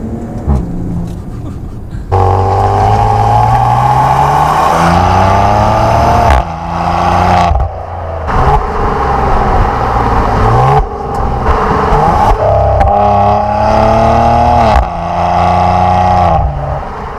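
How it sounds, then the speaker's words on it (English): A 2018 Maserati Quattroporte GanLusso accelerates hard through several gears, the engine note rising in repeated sweeps with brief drops at each upshift and crisp exhaust pops between pulls, loud and close from inside the cabin. "give it a little bit of gas here"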